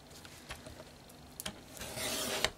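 A paper trimmer blade sliding across a cardstock square cut on the diagonal, soft rubbing scrapes and small clicks ending in a longer, louder slicing swish, close and quiet with no talk.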